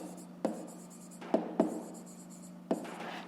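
A pen writes on paper up close, making soft scratchy strokes broken by a few sharper taps as it lifts and touches down.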